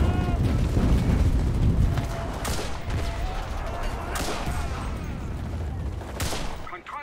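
Gunfire in the WW2 shooter game Enlisted, with several loud broadband shots and bursts spread across the clip amid battlefield rumble and distant explosions, partly under a voice.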